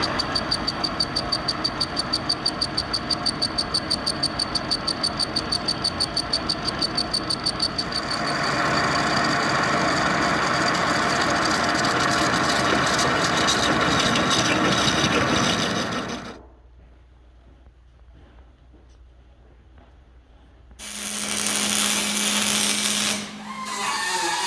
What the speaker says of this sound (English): I'm going to take this cutter, I'm going to whittle this weld down